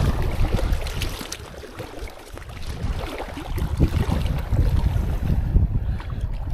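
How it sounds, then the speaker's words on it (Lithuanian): Waves rise quickly across open water during a fishing trip, sloshing and slapping against the boat while gusts of wind buffet the microphone in uneven rumbling bursts. "Taip greitai sukilo bangos čia."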